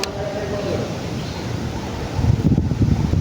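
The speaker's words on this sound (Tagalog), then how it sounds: "Lakas may hangin." Strong wind buffets the microphone at a dam in a steady low roar, growing heavier and gustier near the end, with faint voices beneath.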